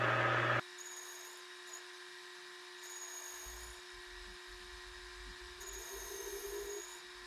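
A metal lathe making a finishing pass with its spindle speed raised, the carriage fed slowly: a steady high machine whine and low motor hum after a brief loud opening burst, with faint cutting noise.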